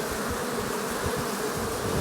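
Honeybees returning to their hive in garrigue scrubland, a dense continuous buzzing hum of many insects flying close by, steady and loud throughout.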